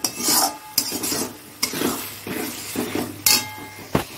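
Mutton is stir-fried for kosha in a pan, with bursts of scraping and clinking from a spatula against the pan over a low sizzle. The strokes come in a loose rhythm, close and fairly loud.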